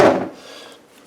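A knife scrapes through a big hunk of beef brisket fat, a short rough rasping cut that is loudest at the start and fades quickly into quiet.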